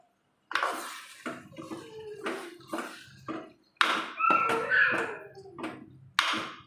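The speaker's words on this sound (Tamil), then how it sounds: "லைட்டாக தண்ணி சேர்த்துக்குவோம்" Water poured into a pan of dry fish curry, giving a run of splashing, sizzling bursts with brief pauses between them, close and fairly loud.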